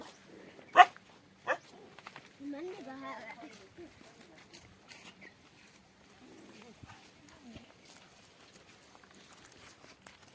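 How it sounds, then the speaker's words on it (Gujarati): A dog barks twice in quick, sharp, fairly loud bursts near the start, followed by quieter whimpering sounds while someone talks nearby in an outdoor setting. "જો હવે કૂતરો"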